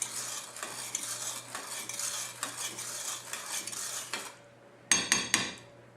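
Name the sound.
stirring water and sugar in a pot for bubble tea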